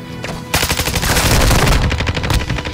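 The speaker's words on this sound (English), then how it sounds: "I'm taking fire!" Rapid automatic gunfire in Warzone DMZ, a loud sustained burst of close shots rattling for over two seconds after a brief quieter moment, with no talk over it.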